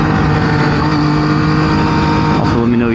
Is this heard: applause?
no